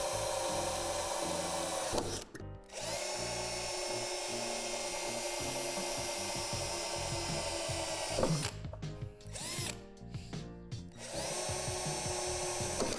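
A power drill with the supplied bit works through the first metal layer of a Lifetime 7' x 7' outdoor storage shed door tube, a loud steady grinding whine with a ratcheting edge that runs for seconds, stops briefly, then resumes in short bursts.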